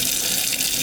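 Water runs from a Kraus Bolden KPF-1610 commercial-style kitchen faucet in stream mode, a steady close hiss of flow into the sink over a brief moment.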